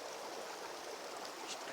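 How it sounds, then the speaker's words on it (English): The River Ashop flows beneath a footbridge near a ruined shooting cabin, a faint, steady babble of running water heard alone and quietly, with a few slightly brighter splashes. "Just about to cross the footbridge across the river Ashop"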